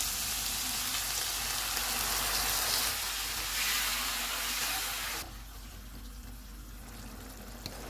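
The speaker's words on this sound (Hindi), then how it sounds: "1 कप पानी डालेंगे।" A cup of water goes into a pan of frying spices and tomato purée, a loud hissing sizzle and splash that suddenly drops to a quieter simmering bubble near the end.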